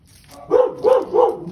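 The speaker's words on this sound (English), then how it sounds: "My neighbor's dogs." A neighbor's dogs bark three times in a quick, evenly spaced series, each bark loud and close, over a quiet background with no talking.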